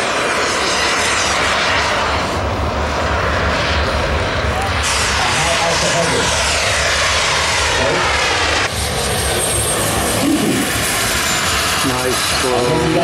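A model jet aircraft flies over a club field in the Sacramento area, its loud, steady turbine whine continuous throughout with passing shifts in pitch, while people talk nearby.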